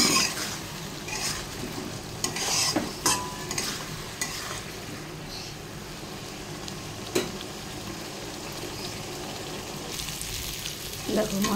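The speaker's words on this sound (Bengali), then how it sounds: "ভালো করে মশলাটা আমি কষিয়ে নেব।" Turmeric-coated spices and potatoes fry in a pan as they are stirred, a continuous soft sizzle broken by scraping strokes of a spatula and occasional clinks.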